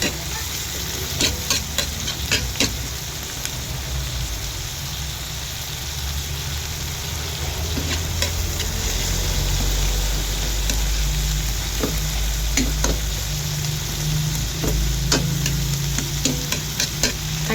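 Pakbet vegetables with crushed tomatoes sautéing in a pan, a steady loud sizzle with scattered clinks and scrapes of stirring throughout, over a low background hum.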